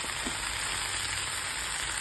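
Chilli, coriander and cumin powders fry in a pan for methi paratha tomato chutney, a steady dense sizzle crackling evenly throughout, close and unbroken.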